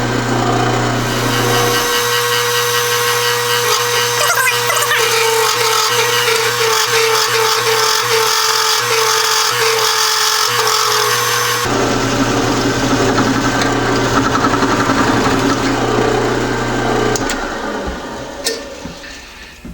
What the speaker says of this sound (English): I couldn't put too much pressure on the drill in case I disturbed the angle in the vise.